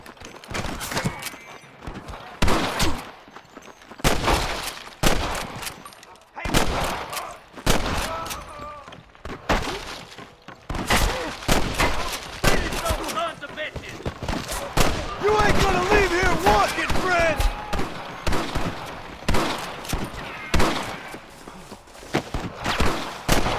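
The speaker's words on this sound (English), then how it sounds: "I can hear more gunshots." Gunfire from the Western video game Red Dead Redemption during a sheriff mission: bursts of sharp shots crack repeatedly throughout, some close and loud, others scattered, mixed with shouting voices, footsteps and game sounds.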